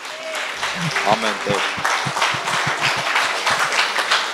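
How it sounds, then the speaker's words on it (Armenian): A church congregation claps together, a run of regular, rhythmic beats filling the hall while a voice speaks briefly over the start. "եկեք ծափարենք Տիրոջը"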